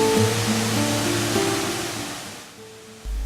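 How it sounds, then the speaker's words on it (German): A jungle waterfall in Laos pours as a dense, broad rushing roar, loud and close at first, then gradually fading and thinning before a sudden low thump at the end. "Wasserfall im Dschungel hat sich für mich ja nicht wirklich prickelnd angehört."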